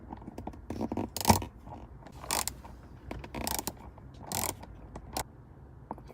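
A small screw is driven into a dual ball mount on a Jeep JK, giving a series of short ratcheting clicks and scraping bursts in an irregular rhythm, close up.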